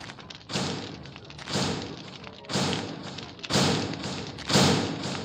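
Crushers thumping in the video game Rocko's Quest, five heavy, evenly spaced thuds about a second apart, each with a brief rumbling decay, loud and alone without speech.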